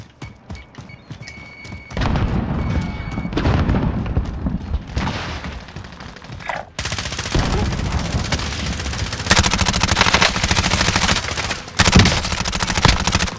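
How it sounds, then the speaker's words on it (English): Assault rifle gunfire in the video game Warzone: loud, dense bursts of rapid automatic shots with booming impacts, running almost without pause and growing heavier partway through. "Assault rifle."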